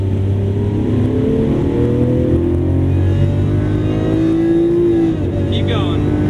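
Lamborghini Aventador accelerating hard on a race track, a loud, steady engine roar building from inside the car for several seconds, with an instructor talking over it.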